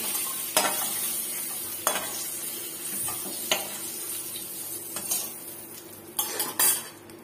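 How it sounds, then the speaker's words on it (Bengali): Capsicum fries in oil in a pan while a utensil scrapes and clinks against the metal, a few distinct knocks standing out over a faint steady sizzle. "এই একই তেলের ভিতরে আমি ক্যাপসিকাম ভেজে তুলে নেব"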